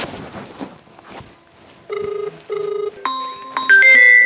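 Indistinct voices give way to a loud electronic phone ringtone: two repeated buzzy rings, then a higher melodic chiming tune.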